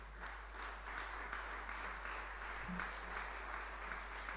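A church congregation applauds and acclaims the king of kings, a steady, moderately distant wash of many hands clapping that holds evenly throughout, with a faint low hum underneath and no talk.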